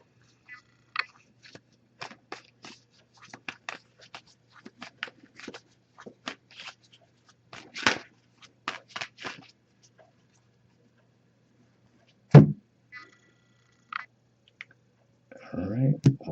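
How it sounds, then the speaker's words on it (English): Oracle cards are shuffled by hand in quick bursts of soft clicking and riffling, with pauses between, ending with a brief rustle close by. "I'm just going to give this a few shuffles and then we'll pull a card."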